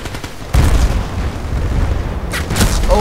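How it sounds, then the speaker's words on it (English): Gunfire and booms from the video game Battlefield Play4Free: a sharp, heavy blast lands early, followed by a sustained rumbling din and a few later crackling bursts, all loud and close. "Oh no, I'm being shot at."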